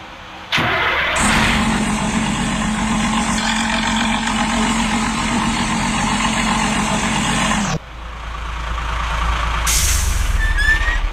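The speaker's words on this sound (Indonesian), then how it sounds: "suara ngoroknya itu padahal mesin ini masih posisinya standby ya, tapi ngoroknya sudah kedengaran ya" A motorcycle fitted with a loud, growling aftermarket exhaust starts up and settles into a steady, deep idle, running close and loud almost the whole time, with a brief dip near the end before the rumble returns.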